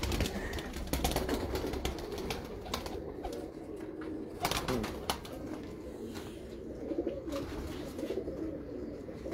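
An old Teddy pigeon walks about, giving soft intermittent coos amid faint background noise and a few brief rustles, with no clear talking.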